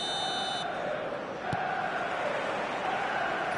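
A stadium crowd in eFootball makes a steady, dense roar with a broad chanting hum that stays loud and constant the whole time, and a single short click cuts through near the middle.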